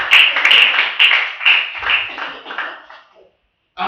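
A church congregation claps together in a few rhythmic bursts that swell and fade, fairly close and lively, then dies out into silence before a brief final sound.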